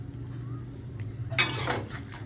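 Shukto with milk just added gets stirred in a pan: a low steady simmer hum, then one brief, sharper scrape of a spoon against the pan and a short rattle near the end.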